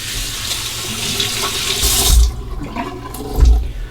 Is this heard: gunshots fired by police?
no